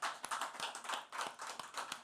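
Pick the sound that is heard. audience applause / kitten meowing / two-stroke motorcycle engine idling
audience applause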